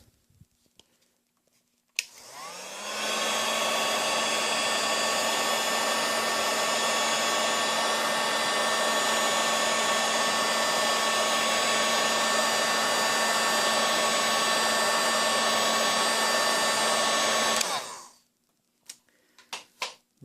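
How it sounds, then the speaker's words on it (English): A heat gun blows on shrink tubing over a soldered wire joint for an air temperature sensor install on a turbo Kawasaki Ninja ZX10R, a steady loud whooshing roar that starts abruptly, holds for about fifteen seconds, then cuts off. "Now I'm going to use a heat gun"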